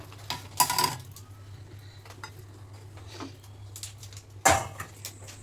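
A metal pot of cooked rice is lifted off a kitchen stove, giving two bursts of clinking, clattering contact, one near the start and one near the end, over a steady low hum with no talking.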